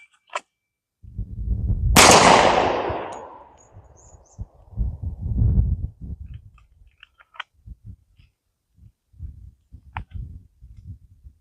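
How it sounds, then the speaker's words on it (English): A Smith & Wesson M&P 10mm pistol with a 4-inch barrel fires a loud, close shot of 200-grain Double Tap hardcast ammunition, its blast ringing out and decaying, followed by softer handling clatter and scattered thumps. "I'm going to go ahead and warm up with the M&P 10 mil with the double tap 200 grainers"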